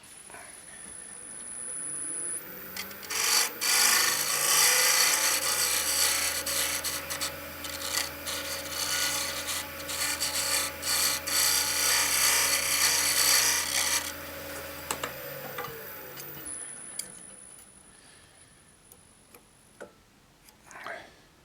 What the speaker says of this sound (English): I will turn it down a bit further so that this the wood is just under 11 millimeters round